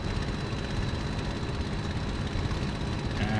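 A Messerschmitt Bf 109G-6 piston fighter at full take-off power in Microsoft Flight Simulator: a steady, loud, droning engine and propeller roar that holds constant with no pauses and no voices.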